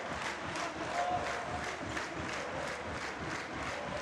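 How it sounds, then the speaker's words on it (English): An arena crowd claps in a steady rhythmic beat at a secondary-school volleyball championship final, a distant, even wash of hands with faint cheering underneath. "We've got a clap going on in the arena."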